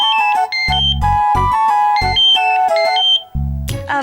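A phone rings with a loud, bright melodic ringtone in a home, the repeating tune punctuated by low thumping beats and playing alone without voices.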